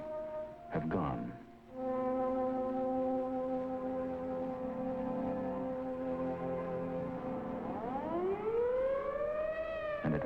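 Civil defense air raid siren sounding over an evacuated town in 1957, a loud sustained wailing tone that falls away and then rises again, heard alone without talk.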